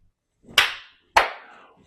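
Two sharp hand claps, close and crisp, spaced about half a second apart, each with a short decaying tail and no talk around them.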